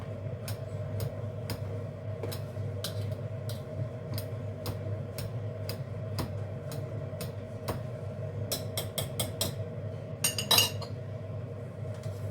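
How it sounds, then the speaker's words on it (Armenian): Boiled potatoes are mashed into puree, giving a regular series of light metallic clicks and clinks from a utensil against the bowl over a faint low hum, with a quicker cluster near the end. "Հիմա նորից կտրորեմ կարտոֆիլը։ Այնքան կտրորեմ, մինչև դառնա պյուրեան նման։"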